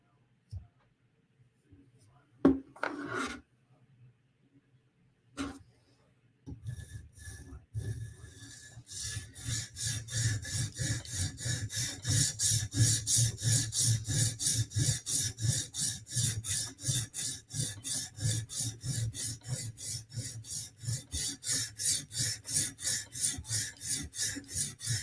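A blade edge is drawn across a sharpening stone in a steady run of rapid, rhythmic rasping strokes, close and continuous after a few scattered scrapes and knocks at the start.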